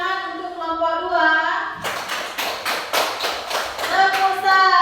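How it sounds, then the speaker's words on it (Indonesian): Grade 1 schoolchildren in a classroom burst into a group clap after voices, a quick run of rhythmic, patterned claps close by, with raised voices returning at the end. "Jadi tepuk tangan untuk kelompok 2."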